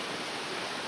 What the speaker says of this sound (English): just take a look and listen as the rain just comes pouring down